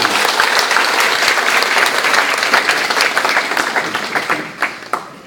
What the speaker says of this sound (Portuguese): Eu queria pedir a vocês uma forte salva de palmas para esses nossos deputados, senadores.